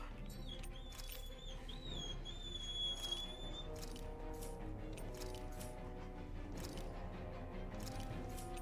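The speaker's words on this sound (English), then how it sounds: "You can hear your dog whining." A dog whines in high, thin wavering squeals during the first few seconds, nearby and indoors, over steady game music and background sound.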